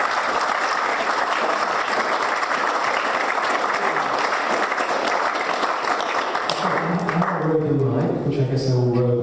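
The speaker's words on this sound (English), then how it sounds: "please give Simon and Alex a round of applause" Audience applause after a university arts conversation event, a steady dense clapping from a crowd that fades out toward the end as a voice starts talking over the room.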